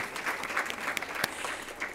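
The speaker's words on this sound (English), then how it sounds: "I would ask again if you could please join me in giving a round of applause to our presenters," Moderately quiet audience applause for presenters, panelists and a moderator after a panel discussion on education policy, an even patter of many hands with a few sharper claps standing out.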